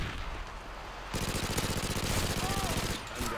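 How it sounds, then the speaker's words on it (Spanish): Rifle gunfire in Modern Warfare 2, a fast, even stream of shots running steadily for about two seconds, loud and close, with a voice faintly present. "Estoy disparando como si fuese esto una CR y realmente se mueve bastante"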